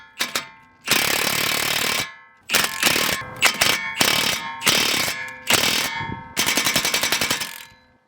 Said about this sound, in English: Once it starts going in, you could get rid of the vice grips and just impact it the rest of the way on.